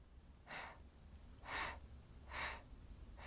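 During a guided breathing exercise, a person takes short, audible breathing puffs, three soft breaths evenly spaced about a second apart, close and quiet with no talking.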